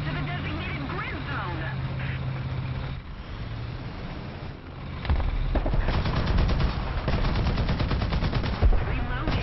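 Gunfire in the War Thunder tank game, bursts of rapid machine-gun fire and heavier cannon shots with engine rumble underneath, growing louder and denser in the second half while a player talks over it.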